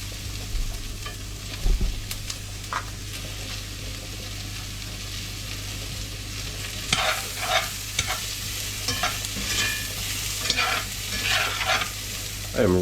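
Onions fry and sizzle in a pan at home while being stirred, a steady crackle broken by scraping, clattering stirs that grow busier toward the end; no one speaks.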